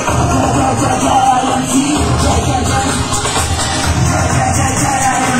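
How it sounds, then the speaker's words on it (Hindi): A crowd applauds and cheers loudly for Ram Narayan Singh at a car achiever celebration event, a dense, steady roar of clapping and shouting that holds without a break. "एक जोरदार तालियां होनी चाहिए राम नारायण सिंह जी के लिए"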